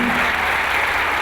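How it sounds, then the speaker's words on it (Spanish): University students give a standing ovation to Ecuador's president at an academic event, with dense, steady clapping that stays loud throughout this short stretch. "los universitarios aplaudieron de pie al líder del proceso de cambio que vive Ecuador"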